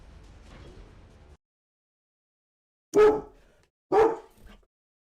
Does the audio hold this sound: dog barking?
yes